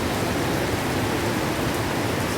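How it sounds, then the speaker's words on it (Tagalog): Heavy rain pours down in a dense, constant hiss that holds steady throughout, with no voices. "Malakas po yung ulan."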